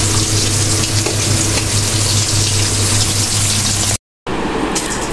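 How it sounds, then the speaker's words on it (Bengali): Hilsa fish pieces coated in spices fry in a pan, a loud steady sizzle and crackle of hot oil that runs continuously, broken by one brief cut of silence near the end before the sizzling resumes. "তো এখন আমি ভেজে নিচ্ছি।"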